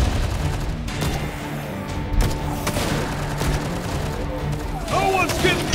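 Rapid gunfire from several weapons at once, dense overlapping shots and booms crackling continuously and loudly throughout.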